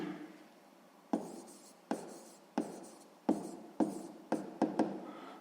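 Chalk or marker taps and scratches on a board during a sixth-grade math lesson, a series of short, distinct strokes at an uneven pace, close and alone.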